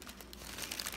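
Sloth-print wrapping paper crinkles close up in a quiet room, a soft continuous rustle about a second long with no voices.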